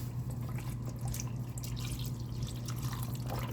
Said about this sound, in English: we're going to go in with that chicken broth